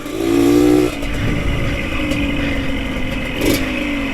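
A motorcycle rides along a watershed trail, its engine droning steadily with a louder rev at the start and rough clatter from the uneven ground throughout.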